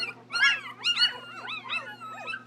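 A week-old litter of healthy puppies whimpers and yips close by in a steady run of high, wavering cries, with a low electrical hum underneath.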